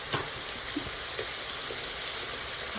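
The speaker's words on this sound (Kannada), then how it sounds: "ಈಗ ಫ್ರೈ ಮಾಡ್ಕೊಳ್ಳೋಣ." Ingredients with a quarter spoon of turmeric fry in a pan for a Kaima and Idhikdhbele gojju, giving a steady, moderately loud sizzle with a few light stirring knocks and no voices.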